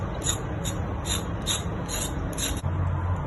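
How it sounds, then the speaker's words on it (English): Rhythmic scraping strokes of a knife rasping the skin off a raw sweet potato in a home kitchen, about six short bursts at a steady pace, close and fairly quiet with no talk. "Now just scrape off the skin like that."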